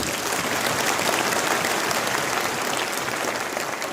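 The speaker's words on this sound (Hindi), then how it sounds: "ये ताली आपने मेरे लिए बजाई है या जाति की विदाई में बजी है?" An audience at a live speech bursts into sustained, dense applause, loud and continuous for the whole stretch with no voices over it.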